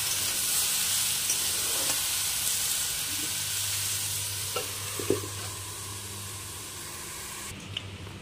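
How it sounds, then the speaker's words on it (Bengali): Bottle gourd greens fry over a low flame in a steady, hissing sizzle, with occasional soft knocks as they are stirred in the pan. "4 থেকে 5 মিনিট খুব ভালো করে ভেজে নেবে সবজিটাকে।"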